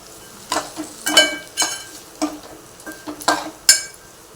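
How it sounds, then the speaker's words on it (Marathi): Chopped vegetables for veg pulao are stirred and tossed in a pan, with a steady run of close spoon scrapes and clinks over a soft sizzle. "आता आपण भाज्या परतून घेऊया"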